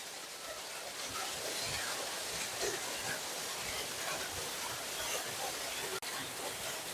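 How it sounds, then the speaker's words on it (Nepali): A forest waterfall near a Shiva cave temple, a continuous broad rushing roar of falling water, fairly quiet and steady, with a voice faintly present. "यो रह्यो हाम्रो झरना"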